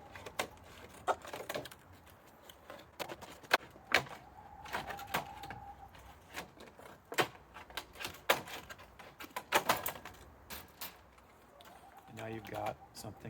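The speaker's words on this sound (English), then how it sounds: "or my favorite, industrial scissors, and just do your best to cut it in half" Industrial scissors crunch through a plastic container, cutting it in half to make a garden protector for direct-seeded plants: irregular close snips and cracking snaps spread over several seconds, with a voice speaking in between.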